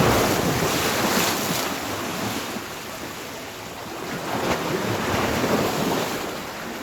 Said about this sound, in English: I just got very splashed by the tide coming in